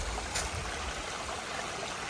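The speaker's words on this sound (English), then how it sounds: "Good stream today. We'll call this one the mountain stream of the day." A mountain stream along the Appalachian Trail flows with a soft, steady rush of water, faint and continuous, with no voices.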